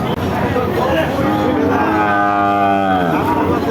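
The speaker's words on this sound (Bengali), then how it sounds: "আপনারা দেখতে পাচ্ছেন এইদিকে খুব চমৎকার একটা বকনা বাছুর, লাল বাছুর" A red heifer calf at a cattle market lows in a long, drawn-out moo, close and loud, over a busy background of market chatter.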